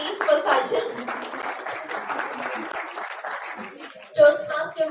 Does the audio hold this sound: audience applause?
yes